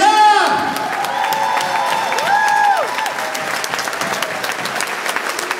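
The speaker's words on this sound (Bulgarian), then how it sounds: "И аплодисменти за тях!" An event crowd breaks into sustained applause with some cheering and whoops, while tonal sweeping sounds like music or effects rise and fall over the clapping.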